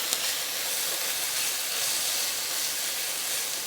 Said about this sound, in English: that sound of sizzling onions